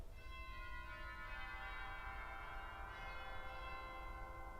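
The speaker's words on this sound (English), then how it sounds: "we have tubular bells." The tubular bells stop of the Royal Albert Hall organ rings out in sustained, shimmering metallic tones that overlap and decay, with a second struck chord near the end, heard alone in the hall.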